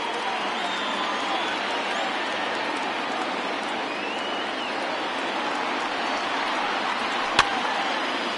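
A baseball stadium crowd of over 39,000 roars steadily on its feet, a dense, loud wash of cheering that holds throughout with one sharp crack near the end.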